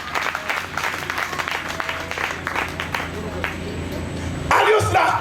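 A church congregation at an evangelical crusade applauds in a loud, steady burst of clapping mixed with voices, building into fuller, louder clapping near the end.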